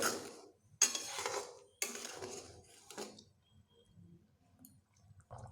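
A utensil stirs salt into a simmering fish curry in a pan, making four scraping, clinking strokes in close succession, followed by quieter faint bubbling and small clicks.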